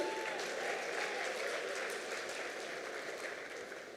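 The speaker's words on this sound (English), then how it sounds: "Let's give them a round of applause, ladies and gentlemen" Audience applause fills the hall as award runners-up from Osho Chemicals come up on stage at an energy management awards ceremony, a steady, dense wash of clapping that holds throughout and tapers slightly near the end.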